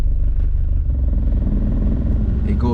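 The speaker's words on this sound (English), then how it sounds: "I just drove the car around a little bit and turned it off to turn it back on, and it's idling pretty smoothly still." A car engine idles smoothly right after a spark plug and idle air control valve replacement, a low even rumble held close and steady throughout, ending with a faint clatter.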